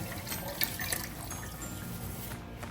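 Coconut milk for laing simmering in a pot: a soft, continuous bubbling and watery hiss, faint and steady throughout, with no speech over it.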